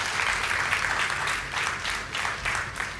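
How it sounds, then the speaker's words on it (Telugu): A church congregation claps at a worship service, moderately loud sustained applause rising and falling in gentle waves, with a low background hum. "స్తోత్రాలు చెల్లించి చప్పట్లు కొట్టండి"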